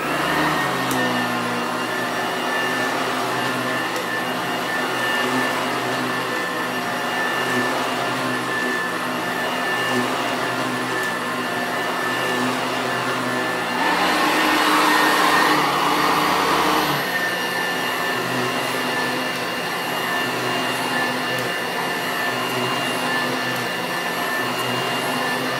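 A Sanitaire SC899 upright vacuum cleaner runs continuously on sand-dusted carpet, a loud steady whining motor roar up close that briefly surges and brightens midway before settling back, with no talking.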